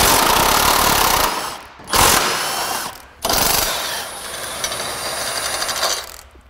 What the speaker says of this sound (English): I'm gonna try a body saw and see if I can get in there.